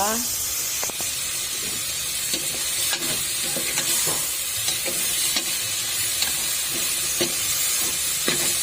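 Lomi ingredients sautéing in a hot pan, loud continuous sizzle with repeated scraping stirs at a steady pace, a voice talking over it at times.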